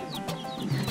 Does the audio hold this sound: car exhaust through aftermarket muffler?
no